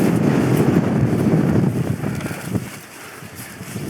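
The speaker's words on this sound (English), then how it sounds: "It's quite windy though," Strong winter wind buffets a backpacking tent on the Herriot Way, a loud, steady, gusty rumble close to the microphone that eases slightly toward the end.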